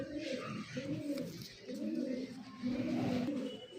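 Fancy club-bred Super Mili pigeons, a male and a female, coo in repeated soft, rolling phrases, close and quiet with no talk.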